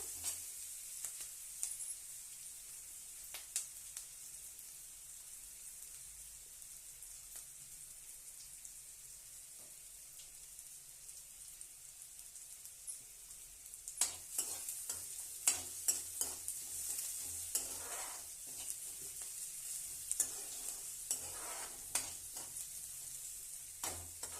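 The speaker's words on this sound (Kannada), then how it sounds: "ಈಗ ಸ್ವಲ್ಪ ನೋಡ್ರಿ ರೋಸ್ಟ್ ಆಗಬೇಕು ಈರುಳ್ಳಿನ" Onions roasting in a pan with vegetable flattened rice being cooked, a low steady sizzle with a run of clinking stirs and scrapes growing busier in the second half, faint overall.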